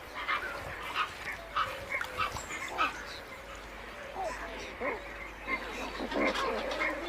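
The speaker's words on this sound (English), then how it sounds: "enormous breeding colonies of pelicans, some containing hundreds of pairs" A huge breeding colony of pelicans among water channels and reed beds, a dense, continuous chorus of honking, grunting calls from many birds near and far, with no talk.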